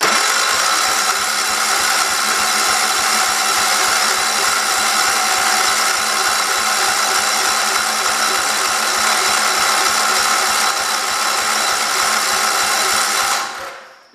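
Close and loud, a 1968 tractor engine keeps running after a pull start, with an even, rapid chugging pulse that holds steady for over thirteen seconds before cutting off abruptly. No voices are heard.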